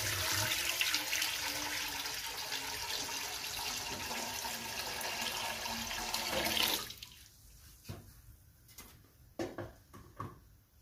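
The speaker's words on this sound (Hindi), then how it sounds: "सब्ज़ी बॉईल करने के लिए सबसे पहले हम पानी ऐड करेंगे।" Water pours steadily into a cooking pot on a stove to boil vegetables, a continuous splashing rush for several seconds that stops abruptly, followed by a few faint clinks and handling sounds.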